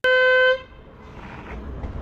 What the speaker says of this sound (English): has been going viral for honking at people who walk in the bike lane where they shouldn't